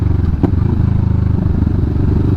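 A Kawasaki Vulcan S motorcycle rolls along on a ride, its engine giving a steady low rumble, close and loud, with one brief clatter near the start and no talking.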